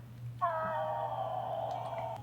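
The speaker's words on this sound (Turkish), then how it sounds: "Şu kedi sesinden de kurtulsak süper olacak." A single drawn-out cat meow in the Crime Scene Cleaner game, a steady sustained cry lasting nearly two seconds over a low constant hum, with no talk.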